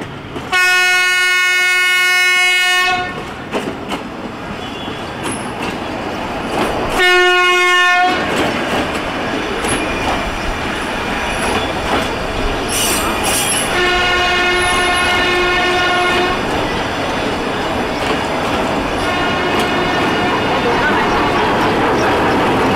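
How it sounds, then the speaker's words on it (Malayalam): The Ooty to Coonoor train at Ooty railway station sounds its loud, tonal horn in three long blasts, over a constant rumble and clatter of the railway cars close by. "ഊട്ടി റെയിൽവേ സ്റ്റേഷനിൽ നിന്നാണ് നമ്മൾ ഈ ഒരു ട്രിപ്പ് സ്റ്റാർട്ട് ചെയ്യുന്നത്, ഊട്ടി ടു കുന്നൂർ വരെ."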